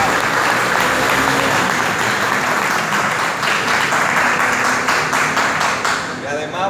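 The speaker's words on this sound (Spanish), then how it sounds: "Yo pido un aplauso para estos maestros que trabajaron." Applause for the teachers of a Tourism and Hotel Management degree program at a university event: dense, sustained clapping from a full audience, loud and steady throughout, easing slightly near the end.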